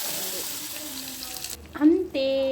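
Cooked toor dal poured into a hot tempering of curry leaves, coriander and turmeric, giving a quiet sizzle and frying hiss, with a brief splash and a higher hiss near the end.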